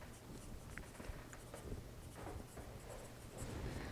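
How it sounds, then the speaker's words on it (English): Pencil strokes scratching across paper while a hand's wrist is drawn, quiet short scribbles repeating in an uneven rhythm, close up and alone. "So we're going to just draw the wrist."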